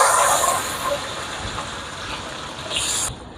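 Curry leaves, green chili and shallots frying in oil left over from frying dried anchovies, giving a loud steady hiss and sizzle that eases slightly before a brief rise near the end.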